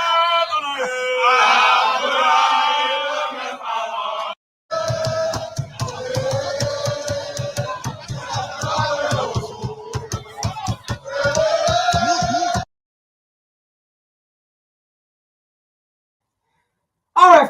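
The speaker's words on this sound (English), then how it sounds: "you see the crowd right there, right?" A large rally crowd in Liberia shouts and chants together in a loud, sustained roar, with rhythmic clapping in the middle stretch, before falling abruptly silent.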